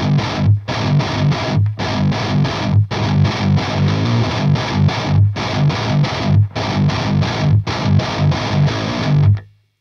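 An electric guitar plays through an Airis Effects Savage Drive pedal into a Victory Kraken amp. Heavily distorted, aggressive palm-muted chugging riffs are broken by short gaps, loud and close, and end with an abrupt stop.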